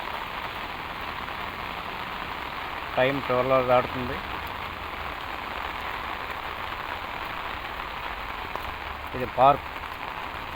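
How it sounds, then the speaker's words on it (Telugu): Heavy rain pours steadily onto surfaces around a park at night. The roar is a dense, even wash throughout, and someone speaks briefly over it twice. "భారీగా కురుస్తుంది వర్షం."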